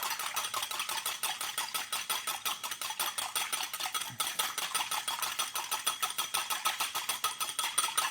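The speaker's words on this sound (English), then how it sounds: "I'm just going to give this a nice whisk." Wire whisk beating a slaw dressing of oil and tangy seasoning in a bowl, a fast steady rhythm of close, bright clicks and scrapes that carries on without a break.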